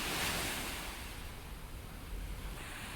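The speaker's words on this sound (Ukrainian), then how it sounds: "Дивіться, які хвилі йдуть." Sea waves wash continuously onto a shore in Greece, a broad steady surf roar with wind rumbling in the microphone and no voices.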